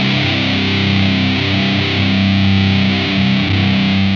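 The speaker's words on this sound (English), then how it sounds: "this is how the chorus sounds going before the fuzz" Electric guitar played through a chorus pedal placed before a fuzz pedal, giving a thick, saturated alt/grunge tone with a gentle swirling shimmer, sustained chords ringing steadily and loudly for several seconds with no talking.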